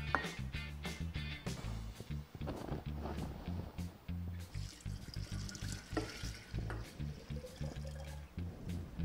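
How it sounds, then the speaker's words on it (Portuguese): A spoon stirs sugar into peach vinegar in a container, giving a steady run of soft scraping and clinking strokes with liquid swishing, close and fairly quiet. "E agora você mexe para ajudar o açúcar a dissolver"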